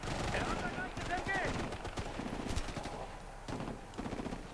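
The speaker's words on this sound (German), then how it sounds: "Er hat ein leichtes MG!" A light machine gun fires in the tactical shooter Ghost Recon: Future Soldier, with rapid bursts of gunfire crackling over a busy battle mix while voices call out over the shooting.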